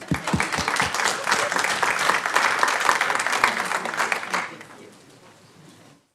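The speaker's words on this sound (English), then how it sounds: "All right, one more applause." Audience applause at a city council meeting in Lee's Summit, Missouri: a dense round of clapping close to the microphone, steady for about four seconds before thinning out and fading into quiet room tone.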